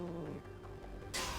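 A cat meows briefly in the Hades 2 video game, a short mid-range call over game music and ambience, followed by a sudden bright hiss-like burst at the end.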